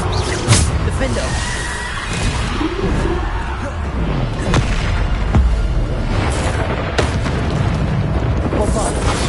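Bombarda explosion spells cast again and again in Hogwarts Legacy on PS5, a dense run of loud, booming blasts and bursts stacked over continuous rumbling game noise, with a voice talking faintly underneath.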